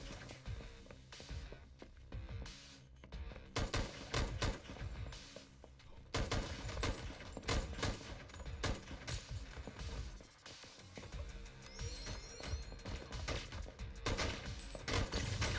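Gunfire in the Core video game, irregular bursts of sharp shots and mechanical clatter rising and falling in loudness, with a few quieter gaps between volleys.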